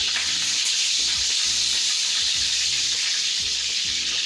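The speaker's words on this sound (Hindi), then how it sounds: "चिकन जो है मैंने तेज़ आंच पे फ्राई किया है" Chicken frying in a pan over a high flame for a steamed chicken tikka roast, giving a loud, steady sizzle with bursts of crackling and stirring throughout, no voices.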